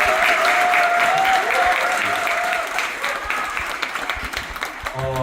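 Audience at a political lecture hosted by a regional party committee applauding: dense, sustained clapping from a crowd that stays loud, then thins slightly toward the end.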